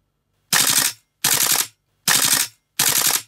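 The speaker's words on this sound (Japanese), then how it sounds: "ちょっとフルオートもやってみようかな。 フルオート、ファイヤー" A Tokyo Marui MTR16 G-Edition airsoft rifle fires four short full-auto bursts, each a rapid rattling string of shots about half a second long, close and loud with silent gaps between, no talk.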